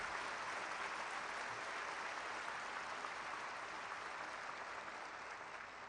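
An audience applauds during a military graduation ceremony for officers. The applause is a dense, even wash that holds steady and then eases off slightly toward the end, with no speech over it.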